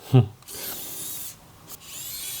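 Kaiweets ES20 electric screwdriver unscrewing the screws of a cooler case, heard as a short clack followed by a steady, high, close motor whir that pauses briefly and then resumes, with no talking.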